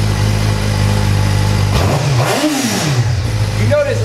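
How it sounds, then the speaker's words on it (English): A Suzuki GSX-R 600cc sport motorcycle engine idles, then revs up sharply in a rising and falling high-pitched whine, dropping back before a second quick rev. "I'm gonna rev it for you guys so you can hear that exhaust note."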